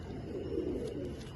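Soft low cooing from a Sargodha pigeon, a brief warbling murmur heard close by and fairly quiet.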